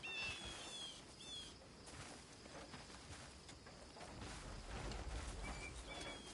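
Birds calling nearby, soft cooing and chirps scattered over a quiet outdoor background, faint and intermittent with no talking.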